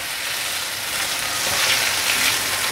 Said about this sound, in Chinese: 把马铃薯炒成焦黄色